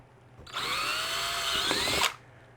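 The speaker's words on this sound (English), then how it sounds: "just kind of drill them out." Power drill boring out the small quarter-inch raised spots between the squares of a plastic compost worm bin, a single loud whining burst of about a second and a half with pitch shifting as the bit bites, close by and alone.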